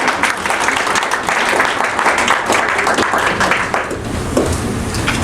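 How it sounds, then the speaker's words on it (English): Families and friends at a fall graduation ceremony give a long, steady round of applause, dense clapping from a large audience filling the hall without a break. "You all deserve a big round of applause."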